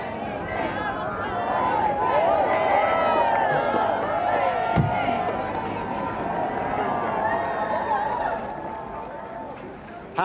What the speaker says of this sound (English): the King was met by cheering crowds as he stepped out and shook hands with well-wishers outside Buckingham Palace